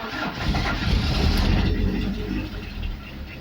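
A Peugeot 306 engine turns over and catches, then settles into a loud, steady idle close by, right after power steering hose work.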